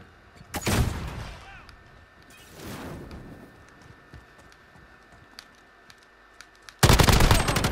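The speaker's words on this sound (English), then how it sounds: "I'm taking fire." Gunfire in Call of Duty: Modern Warfare multiplayer, with two loud bursts early on, scattered faint shots in the middle and a dense, loud rattle of automatic fire at the end.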